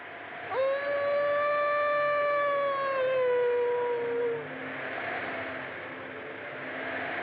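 A dog howls down by a river in a 1932 film: one long, loud, wavering howl that slowly falls in pitch and fades after about four seconds, over a low steady background.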